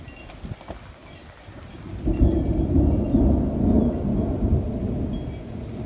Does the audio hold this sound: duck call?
no